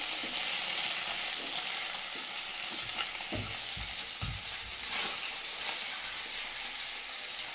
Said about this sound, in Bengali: তেল থাকে ফ্রাই প্যানে ভাজলাম, দেখো মাছগুলো গোটা গোটা